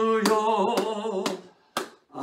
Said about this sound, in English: Come on and clap your hands with me.